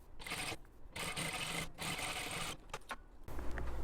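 A sewing machine stitches a seam on wide two-tuck slacks in short bursts, the motor whirring steadily with brief pauses and stops as it backstitches, close and fairly quiet.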